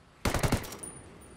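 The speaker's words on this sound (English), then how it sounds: "Shoot that other fuel tank that's in there." A quick burst of several close gunshots in the video game Ghost War, fired at a fuel tank, with sharp rapid cracks followed by a brief fading tail.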